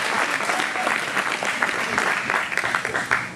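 Wedding guests break into lively applause in a function room, a dense clapping that fades slightly and then surges, with a few cheers and voices mixed in.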